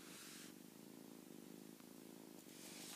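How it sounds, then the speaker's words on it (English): A kitten purrs close to the microphone, a soft, steady rhythmic rumble with gentle pulsing breaths, faint and continuous throughout. "Can you hear her purring?"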